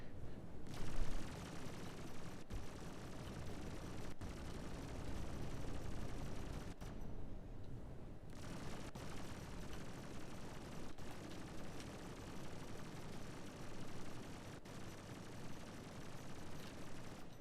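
Ballistic ship cannon fire in the Star Citizen space game forms a dense, continuous barrage. Sharp louder cracks punctuate it every couple of seconds, with no speech.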